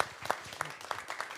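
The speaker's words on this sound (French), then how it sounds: "vous pouvez applaudir" Scattered audience applause at a national burger championship final, honoring past champions; sparse, uneven clapping at moderate distance with a few louder claps standing out.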